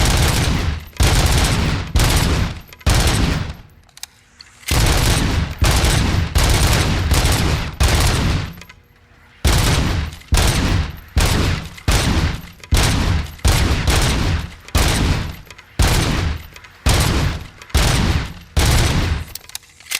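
Gunfire in the video game RoboCop: Rogue City: loud, close bursts of rapid automatic fire in repeated volleys with short pauses between them, filling the whole stretch.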